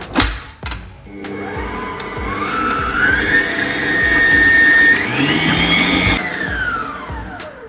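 Electric hand mixer whisking cake batter with sour cream and sugar, a steady loud whirring drone that shifts pitch as speed changes, close and continuous with no talk.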